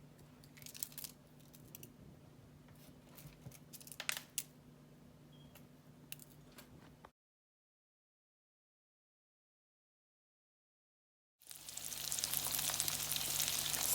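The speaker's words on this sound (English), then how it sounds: "So I'm just stirring this every so often. It's really starting to brown now." Goat meat browning in a pot with thyme, garlic and pimento, a soft crackling sizzle with scattered scrapes and clicks as it is stirred, quiet and steady, broken by a stretch of silence before a louder sizzling rush returns.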